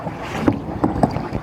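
Kayak paddling on the sea off Ilhabela: about three rhythmic paddle strokes splash and swish through the water close by, with wind buffeting the microphone between them.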